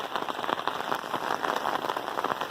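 Rain falls on a pig farm, a dense, steady patter of drops hitting surfaces, fairly close and continuous without talk.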